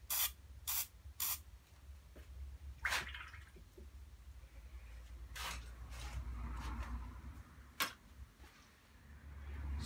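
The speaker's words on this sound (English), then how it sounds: "And give that a little spray." A spray bottle mists water onto a watercolour painting of a blue door, giving several short, sharp hissing bursts with pauses between them, close and clear, over quiet room background.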